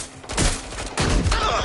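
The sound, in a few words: gunfire in the video game Watch Dogs Legion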